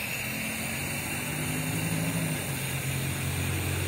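A steam engine with a 3-inch bore, 3-inch stroke and 10-inch flywheel, fed from a boiler, runs with a steady low mechanical chug and hiss at close range, continuous and alone.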